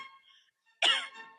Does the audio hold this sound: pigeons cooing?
no